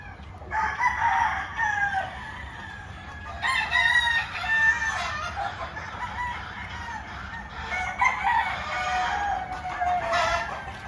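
Free-roaming chickens on a ranch: hens cluck and cackle continuously at moderate distance, with repeated rooster crows rising above the flock throughout.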